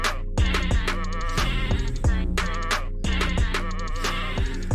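Sheep bleats are chopped into a homemade 'sheep of the week' beat, the sampled bleats repeating rhythmically over a steady, loud bass-heavy backing with no talk.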